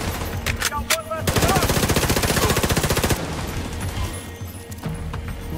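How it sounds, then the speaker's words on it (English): Rapid automatic gunfire in The Division 2 during a co-op stronghold fight, a dense sustained burst of shots lasting about two seconds amid scattered single shots and ambient battle noise. "I'm shooting at the dudes on the right."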